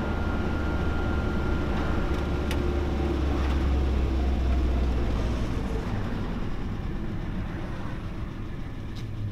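Renault Trafic MK1 van with a swapped-in 2165cc 2.2 engine idling, a steady, loud low rumble that holds without a break and eases slightly toward the end.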